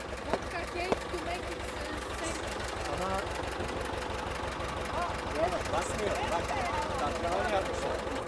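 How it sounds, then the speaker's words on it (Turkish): A tractor engine idles at a Turkish wedding in Poland, a steady low rapid diesel chugging that runs throughout, near and fairly loud beneath people talking and crowd noise. "Ya çocuk traktörü alıp gelmiş."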